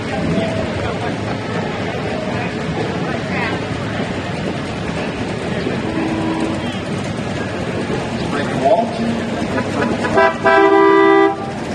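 Classic cars rolling through a Memorial Day parade, with a loud honk bursting out near the end over steady crowd and street noise while a voice talks.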